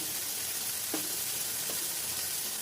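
Tomatoes and coriander frying in a pan for a spicy hesarukalu and potato sambar, giving a steady close sizzle with a couple of faint stirring scrapes and no speech.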